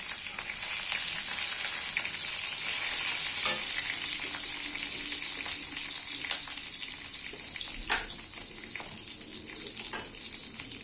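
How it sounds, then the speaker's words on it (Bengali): Nigella seeds and slit green chillies sizzle in hot mustard oil in a pan, giving a steady, close, bright hiss with small pops and crackles and faint stirring clicks, and no talking. "এবার দিয়ে দেবো ফোড়নে কালো জিরে, এবার দিয়ে দিচ্ছি চিড়ে রাখা কাঁচা লঙ্কা"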